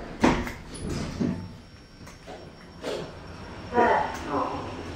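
Hotel lift doors slide open and shut in a Travelodge in Vauxhall: a few soft rolling thumps and rumbles spaced through the moment, with quiet background sound between them.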